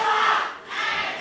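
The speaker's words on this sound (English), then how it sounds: "But the crowd are coming up for Edgar Adams" A professional wrestling crowd at a live event roars and chants for Edgar Adams, a loud, close swell of massed voices that dips briefly before surging back.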